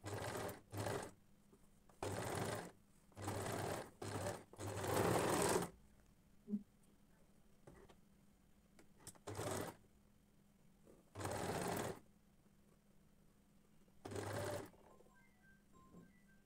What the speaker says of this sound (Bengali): শুধুমাত্র এই হাতার অংশটা আমরা এখন ভাঁজ করে সেলাই করব